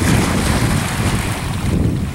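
Waves rolling and washing in continuously, close and loud, with a broad windy rush over the water.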